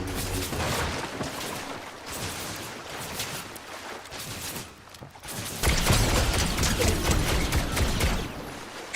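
Dense, continuous gunfire from a first-person shooter video game where a DMR rifle is in play, with overlapping shots and explosions forming a loud, steady barrage that swells in the last few seconds.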